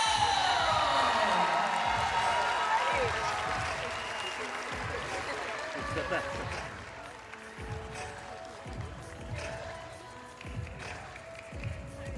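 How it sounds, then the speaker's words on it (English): Stadium crowd at a Utah at UCLA game applauding and cheering for an honoree, a loud sustained roar of clapping and whoops that slowly tapers off, with an announcer voice faintly under the noise. "Fans, let's give a big round of applause to Sienna Alivio!"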